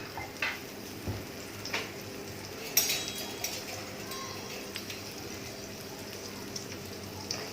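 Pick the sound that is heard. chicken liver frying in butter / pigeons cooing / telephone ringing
chicken liver frying in butter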